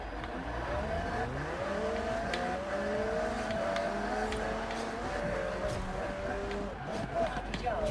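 A McLaren MP4-12C revs and shifts through gears while driving in Forza Horizon 4, its engine note climbing and dropping repeatedly with tire and road noise, and a voice talking over it.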